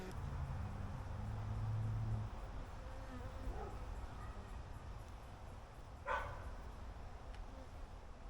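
Honey bees buzz faintly and steadily around an open beehive during an early-summer inspection, with a single brief knock partway through and no talking.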